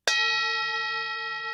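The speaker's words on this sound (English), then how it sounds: "So now think of the prayer bowl." A prayer bowl struck once in a small studio, a sharp attack blooming into a long, steady metallic ring with many sustained overtones that decays only slightly.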